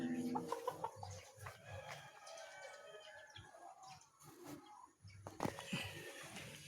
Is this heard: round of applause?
no